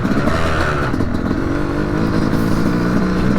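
A 2025 Yamaha YZ250X two-stroke dirt bike engine runs loud and close throughout, a steady buzzing drone with slight revving swells and no voices.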